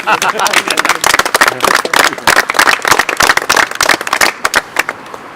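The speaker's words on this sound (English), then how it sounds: "so they deserve a round of applause in particular" A crowd gathered for the opening ceremony of a park entrance in Holt Park claps in loud, close, irregular bursts, with individual sharp claps standing out from the group.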